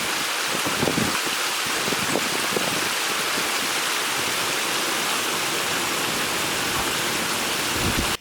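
Heavy rainwater rushes downhill like a river beside a deck under rebuild, a loud, continuous wash of water that runs unbroken for about eight seconds with no voices.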